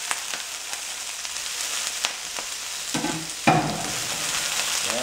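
General Tso's chicken stir-frying in a very hot pan, a loud steady sizzle with popping crackles and bursts of scraping as the pieces are stirred, no talking.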